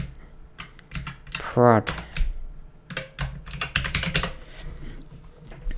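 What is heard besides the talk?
typing a command on a computer keyboard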